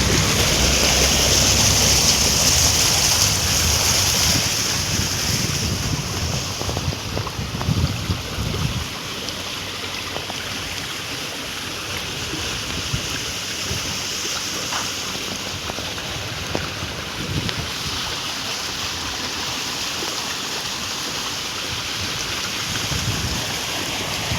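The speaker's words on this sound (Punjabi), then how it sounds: "ਦੇਖੋ ਪਾਣੀ ਕਿੰਨਾ ਖੜਕਾ ਹੋ ਰਿਹਾ ਪਾਣੀ ਦਾ ਐ ਆ ਰਿਹਾ ਦੇਖੋ ਇੰਨਾ ਤੇਜ਼ ਪਾਣੀ ਨਿਕਲ ਕੇ ਉਧਰੋਂ" Floodwater rushes after heavy monsoon rain lasting about 72 hours, a loud, constant broadband roar close by with gusty wind buffeting the microphone throughout.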